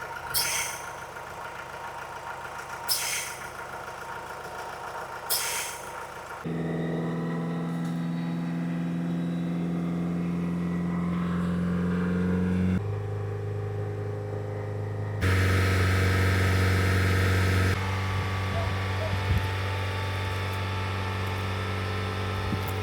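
A Ford Transit engine runs during DPF regeneration, its drone stepping up and down between sustained higher and lower revs. The sound is steady and fairly close, with no one speaking.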